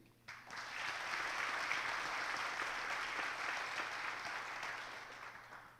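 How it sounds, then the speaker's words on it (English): At a Cumberland County education gathering, an audience applauds presidents, a chancellor and presenters, a sustained, even round of clapping that swells in quickly and tapers slightly, heard from a distance at low level. "Now let's give a final round of applause to our presidents and our chancellor and the presenters"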